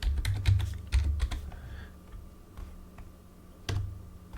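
Typing on a computer keyboard while entering R code, with close, crisp key clicks in quick clusters, then sparser individual taps and a final burst, with no speech.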